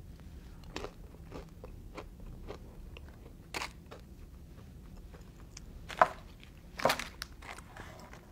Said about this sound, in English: I'm about to shove a peanut butter pretzel into some cookie spread, Snickerdoodle cookie spread